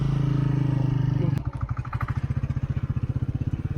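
A motorcycle creeps down a steep, slippery red-soil slope in Shakardara, Kohat. A steady engine drone gives way to close, rhythmic chugging pulses as it eases downhill.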